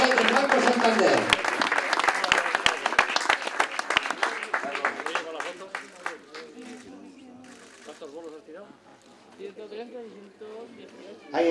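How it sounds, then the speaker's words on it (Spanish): An audience at a bolos (skittles) champions' trophy ceremony in Santander claps loudly and densely for the champion, the applause thinning out over several seconds while someone talks over it. "Ahí está el aplauso para el campeón."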